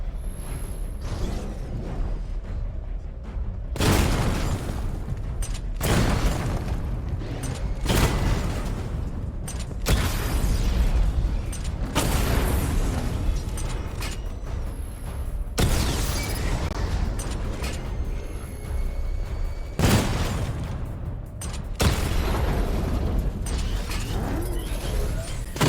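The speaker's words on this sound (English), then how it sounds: "Charge the missile barrage to level 2 to destroy up to 4 targets at once." The Batmobile's missile barrage in Batman Arkham Knight fires in repeated volleys, each a loud rumbling cluster of explosions and whooshes, separated by brief lulls and continuing over sustained game noise.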